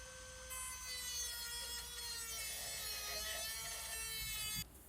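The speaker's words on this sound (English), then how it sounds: "cutting away that metal or steel plate because that's basically exactly where he has to weld or braze" A steel plate being cut away on an HVAC refrigeration repair: a steady, loud grinding whine with a rasping edge holds for about four seconds before cutting off near the end, with no talk.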